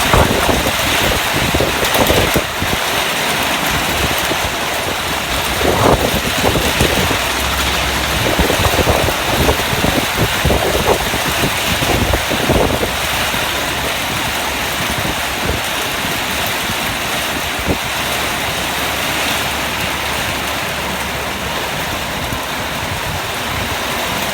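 Steady, loud rain pours down outdoors in a wide continuous wash at an elephant camp, with no talking.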